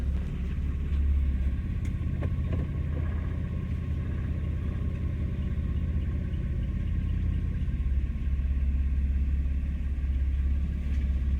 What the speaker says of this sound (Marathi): हे बघा गाडी चालू झालेली आहे